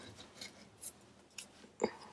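Scissors trim around a strip of wide tape for a paper craft page, giving three short separate snips spaced across a couple of seconds, close and fairly quiet.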